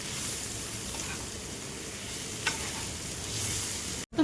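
Pepper chicken frying in a pan gives off a steady sizzle, with a few faint scrapes of stirring and a brief clatter at the end.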